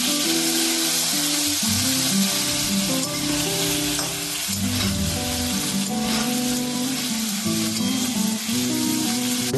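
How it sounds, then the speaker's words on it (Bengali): Cut potatoes frying in hot mustard oil, a continuous loud sizzle with occasional stirring scrapes and bubbling underneath, close and steady throughout. "এবার এই সেম গরম সরষের তেলটায় আমি দিয়ে দিলাম আলু"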